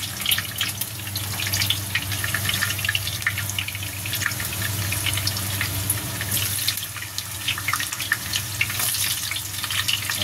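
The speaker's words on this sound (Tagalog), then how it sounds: "Ito nakahanda na po yung mantika po natin. Kasalang na po siya at gigisa na po natin yan." Hot cooking oil is heating in a pan ahead of sautéing garlic and onion, giving a steady crackling, fizzing sizzle close by without a break.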